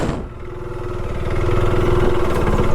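Engine of a 390cc adventure motorcycle as the clutch is let out, a steady close throbbing hum that swells slightly in loudness and pitch over a few seconds, with no talk.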